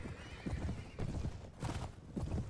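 Horses gallop in Mount & Blade: Warband (Floris Edition), with a dense, rapid, loud clatter of hooves that rolls on continuously and surges in waves, with no voices over it.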